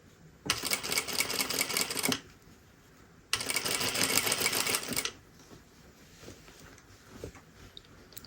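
Two sustained bursts of a sewing machine running fast through fabric, each lasting a couple of seconds, with a short pause between and quieter handling noise afterward.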